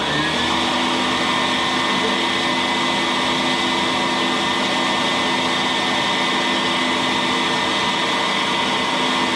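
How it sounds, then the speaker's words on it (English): A vacuum cleaner runs steadily at close range, a loud continuous whine and whoosh with no change in pitch. "Turn on the vacuum"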